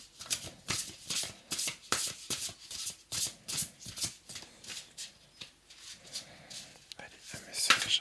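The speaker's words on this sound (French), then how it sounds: "je trouve elles vont très très bien à se brasser ces cartes" Tarot cards shuffled by hand in quick repeated riffling bursts, close and crisp, with a soft whispery voice speaking between them.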